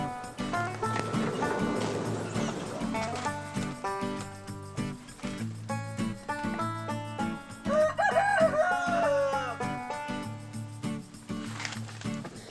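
A rooster crows loudly midway over a bed of music, with scattered hen clucks around it.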